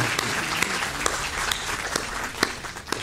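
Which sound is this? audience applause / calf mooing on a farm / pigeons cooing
audience applause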